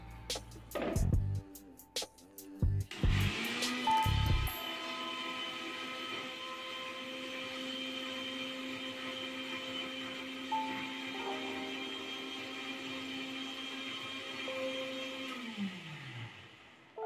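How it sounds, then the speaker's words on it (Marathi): A kitchen mixer grinder whirs through eggs and butter for an egg cake, opening with a few short bursts and clatters before settling into a loud, steady motor whine that holds for many seconds and then winds down at the end. "आता हे मिक्सरला फिरवून घेऊ आपण."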